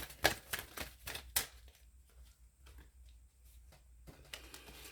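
Tarot cards shuffled by hand at close range, giving irregular crisp snaps and papery riffles with a few louder slaps early on, then softer scattered rustling in an otherwise quiet room with no talking.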